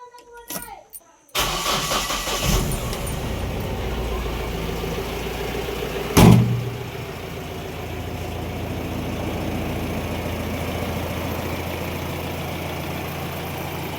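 A Mahindra Bolero SUV engine turns over and catches with a brief louder burst, then settles into a steady low idle rumble that continues to the end.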